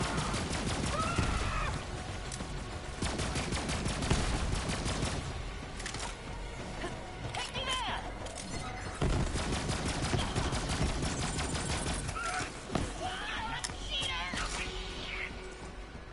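Rapid automatic fire from Moze's gun in Borderlands 3, in dense repeated bursts mixed with game effects and whining tones, with a voice talking over parts of it.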